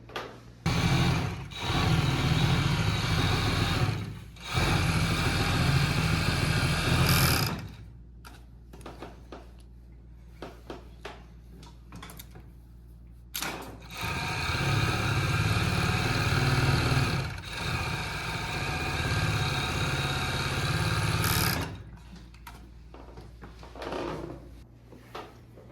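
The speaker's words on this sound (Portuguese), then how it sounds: "voltamos para overlock, para passar o overlock" An overlock sewing machine finishes the side seams of a blouse, running in loud rapid bursts of several seconds each, separated by pauses with handling clicks and fabric rustle.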